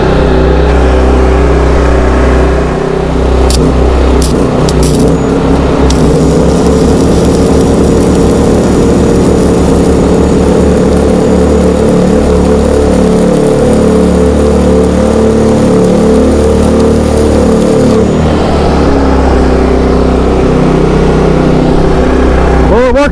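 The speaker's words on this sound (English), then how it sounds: "Now the generator's on low." A small inverter generator runs on propane at low throttle while being used for welding. Its engine drones loud and steady with a shifting hum under occasional mechanical rattles, and it stays close and continuous throughout.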